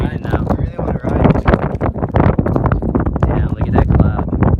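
Horses walking in rain on the North Shore, hooves clip-clopping in a steady uneven rhythm close by, mixed with wind buffeting the microphone and people talking over it.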